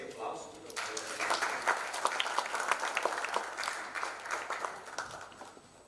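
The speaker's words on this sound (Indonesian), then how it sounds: "Mari kita beri aplaus untuk Pendeta Henry." Audience applause for a pastor at a church talk, a dense wave of clapping that swells in just under a second and holds steady at moderate loudness, with a few sharper claps standing out.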